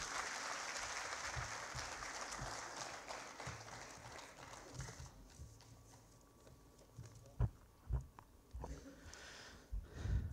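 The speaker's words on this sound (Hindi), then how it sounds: "एक बार जोरदार तालियां बजा देंगे सुनील जी।" An audience at a political gathering claps together for a speaker, a dense burst of applause that fades after about five seconds into a few scattered, louder individual claps.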